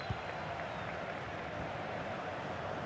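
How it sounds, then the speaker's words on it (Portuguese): Steady crowd applause in the FIFA 23 football video game during a Brasileirão Série D 2023 match simulation, a continuous broad wash of clapping at moderate level with no break across the short span. "Palmas para ele."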